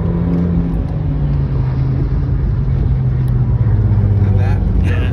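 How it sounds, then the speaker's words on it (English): Everyday road cars rip past at speed on a race track, a steady, loud engine roar with shifting pitch running the whole time, with a voice talking over it. "it is somewhat astonishing when what I would class as everyday cars are ripping right past you"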